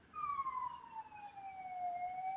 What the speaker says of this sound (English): Not the ambulance in the background.